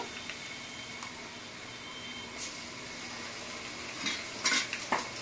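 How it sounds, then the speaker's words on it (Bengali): Garlic, ginger and green chili paste cooking with browned onions makes a soft, low sizzle, with a few spoon scrapes and clinks against the pan clustered near the end. "এটাকে একটু আমি নাড়াচাড়া করে নেব"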